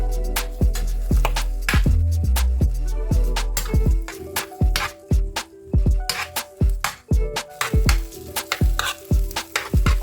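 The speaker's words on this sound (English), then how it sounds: "Stir to combine everything evenly." Eggs and vegetables sizzling in a pan while a utensil stirs them, a continuous fry hiss broken by repeated sharp scraping and clacking strokes against the pan, close and loud, with no talk.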